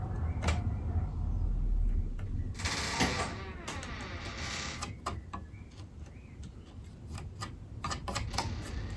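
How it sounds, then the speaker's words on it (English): A small chisel carving an inlay recess into a guitar headstock, sharp scraping clicks and short cuts in an irregular rhythm, close and fairly quiet, with one longer scrape partway through. "I can also bring in a much smaller chisel."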